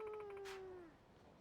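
A cat in the game Yakuza 3 gives a single drawn-out meow that slowly falls in pitch and fades, heard clearly and alone over faint background.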